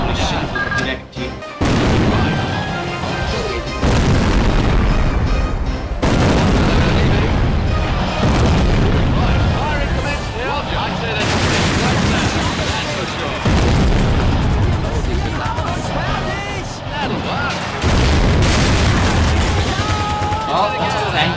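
Video game combat against a tank, with heavy booming explosions and bursts of gunfire filling the scene loudly and almost continuously, a voice talking over the chaos.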